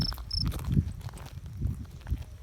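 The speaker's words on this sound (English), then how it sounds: "There's the crickets everywhere." Faint high chirps of crickets in a canyon over outdoor rustling and soft footsteps, with a couple of brief shrill calls near the start.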